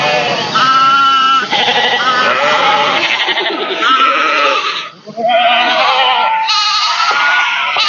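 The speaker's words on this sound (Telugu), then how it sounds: "అయ్యో రూబేనా, ఈ గొర్రెలు మనకంటే ఎక్కువ తింటున్నాయిరా." Sheep bleat loudly and repeatedly nearby, overlapping calls rising and falling with a brief pause in the middle, heard without talk.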